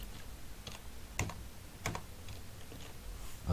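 Keystrokes on a computer keyboard come in sparse, uneven taps with a few sharper clicks. It is quiet and close, with no talking.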